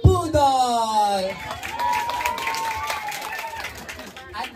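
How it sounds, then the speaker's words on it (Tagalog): Crowd at a Miss Gay Maunlad 2024 pageant claps and cheers for a contestant, with a rising whoop at the start, then steady broadband applause and shouts. "Bakit hindi ho natin sabay-sabay palakpakan at hiyawan ang nag-iisang Herlene Nicole"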